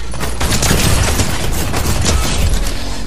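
Gunfire in a Fortnite match fills the clip as a dense, continuous barrage of loud shots and booms.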